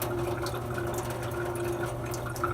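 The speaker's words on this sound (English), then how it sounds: "running them under clean water" Paintbrushes rinsed under running clean water, a steady close splash and trickle from a tap that carries on unbroken throughout, with no voices.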